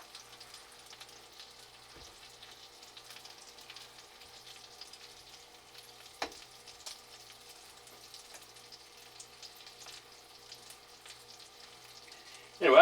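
Andouille sausage frying in grease in a cabin kitchen, a faint, steady sizzle with soft crackles and an occasional clink, ending in a sudden louder noise.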